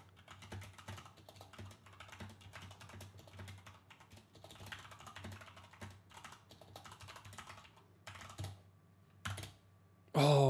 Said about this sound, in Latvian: es gribu pamēģināt, cik ātri man ir rakstīšana